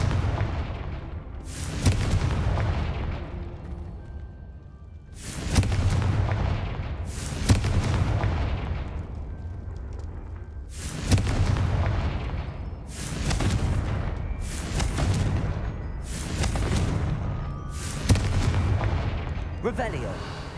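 Confringo fire-spell blasts go off repeatedly in the video game Hogwarts Legacy, about nine sharp, loud booms at irregular intervals. Each blast has a long rumbling decay, with game ambience between.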